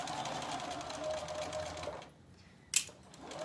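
A sewing machine stitches a skirt seam forwards and backwards at close range, running as a fast rapid whir that stops around two seconds in. A short sharp click follows, then the motor starts up again.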